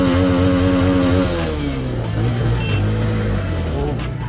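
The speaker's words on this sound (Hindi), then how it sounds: "तो वो तो मैं चेक कराता हूँ आपको अपाचे 164 की साउंड" A TVS Apache 160 4V motorcycle engine revs up hard and then holds a steady throaty run, close and loud, with no talking over it.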